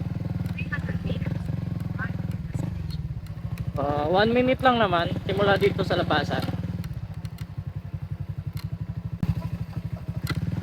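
Motorcycles bumping over a short rough road, a low rumbling engine with rapid putter and clatter throughout, while someone talks over it and a brief revving whine rises in the middle.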